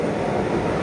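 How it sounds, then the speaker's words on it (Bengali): A Vande Bharat train pulls into Purulia Junction in the morning, a loud, steady rumble of wheels and carriages close by, with no voices. "ওই যে আমাদের ট্রেন আসছে।"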